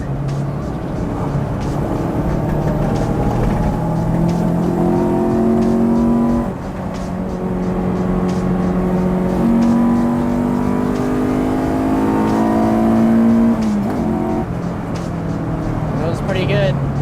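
A B16-engined Honda CRX with a stock OEM exhaust accelerates hard through the gears, the engine note rising in long climbing sweeps, with a brief dip at each shift, loud from inside the cabin.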